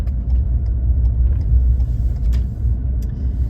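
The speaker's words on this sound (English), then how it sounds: "See all this traffic?" Heavy detouring road traffic rolls past in a steady low rumble of car and truck engines, with a few faint clicks and hisses on top and no speech.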